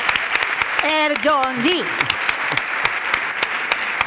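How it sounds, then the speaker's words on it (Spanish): Audience applause for Spanish comedian and radio host Jonji Arenas, dense clapping from a crowd with a voice speaking briefly over it early on, then clapping continuing alone. "aplauso para él"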